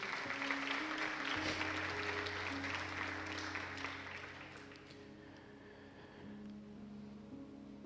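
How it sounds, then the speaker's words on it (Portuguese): A church congregation applauding after a sermon line: dense, steady clapping from many hands that gradually thins and fades over several seconds, with a low sustained organ or keyboard tone underneath. "Você pode aplaudir Jesus por isso?"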